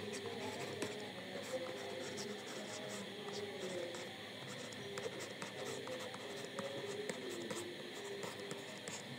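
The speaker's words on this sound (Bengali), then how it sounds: "আমি তোমাদের একটু লিখে দেই।" Marker or chalk scratches on a board as a chemistry teacher writes during a lesson, faint repeated short strokes in a quiet room with light background noise.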